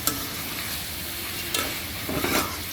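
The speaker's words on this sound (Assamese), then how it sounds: "এতিয়া গোটেইখিনি ভালদৰে লৰাই দিম" Chicken pieces with red chili frying in a pan are stirred, giving a constant hiss and sizzle with a few scraping, clattering strokes of the spoon near the end.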